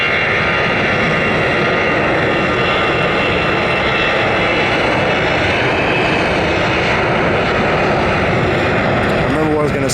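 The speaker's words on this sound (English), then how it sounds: "Now we've got this American A320 LUS aircraft." American Airlines A320 airliner passing at an airport, a loud, steady broadband engine roar that fills the whole stretch without letup.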